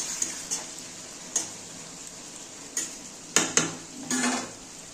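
Echor chingri with potatoes stirred in a pan: a few sparse, light metallic taps and scrapes of a spoon against the pan over a faint background hiss.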